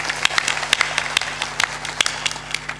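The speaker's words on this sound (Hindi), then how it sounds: "थोड़ा ताली तो बजा दिया कर।" An audience at a satsang claps in a brief scattered burst, sharp individual claps standing out over a low room hum and faint murmuring.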